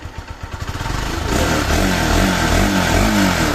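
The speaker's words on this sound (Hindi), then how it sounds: "तो भाई फाइनली बाइक का काम हो चुका है, साउंड सुनाता हूँ।" A motorcycle engine, just repaired at the rocker arm, ticks over in slow uneven pulses, then catches and settles into a smooth, steady idle close by, dominated by exhaust note with no clatter.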